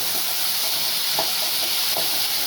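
Ginger garlic paste frying with country chicken in a pan, a steady close sizzle and hiss with a couple of soft stirring scrapes, no voices.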